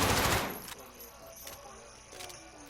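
A short burst of gunfire from the FS6 Light gun in the Modern Warfare video game, loud for under half a second and then trailing into faint scattered clicks and metallic ticks.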